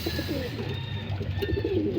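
Racing pigeons coo steadily at feeding time in a loft, a close, continuous murmur of overlapping low coos with no pauses.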